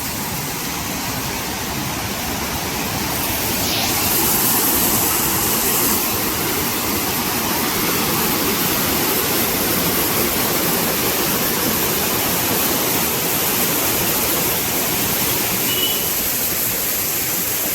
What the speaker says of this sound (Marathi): हे बघा वरतून पाणी असं येतंय पूर्ण